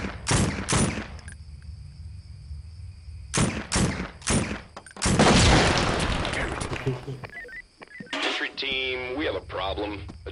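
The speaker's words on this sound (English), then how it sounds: "these idiots are shooting each other" Gunfire from the tactical shooter game SWAT 4: sharp bursts of shots early on, then a dense, sustained volley in the middle, with radio-like chatter near the end.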